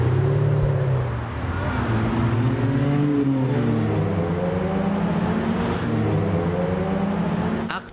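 A tuned car's engine revs hard on Dortmund's Wall ring road, climbing in pitch and roaring up through the gears nearby before cutting off at the end.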